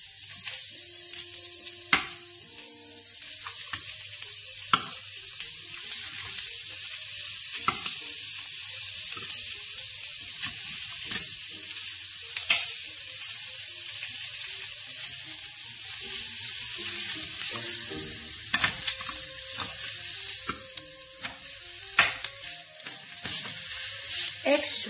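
Six pork souvlaki skewers sizzle steadily in a hot covered pan, a constant bright frying hiss with scattered pops and crackles throughout, close and loud with no talking.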